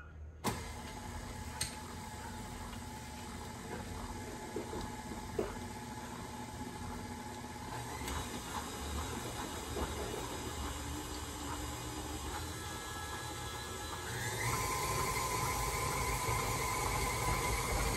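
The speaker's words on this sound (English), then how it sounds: "now I'm going to go ahead and mix this in. You want to start this off slow on a stir or it's going to poof everywhere." An electric mixer runs on a slow stir setting through zucchini bread batter, giving a steady whirring hum that shifts in tone partway through and grows slightly louder near the end. No one speaks.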